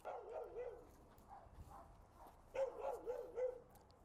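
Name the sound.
customs sniffer dog barking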